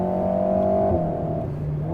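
Engine of an Alpine A110 S sports car pulling hard, a steady, close, sustained tonal drone that holds firm for about two seconds, with no talking.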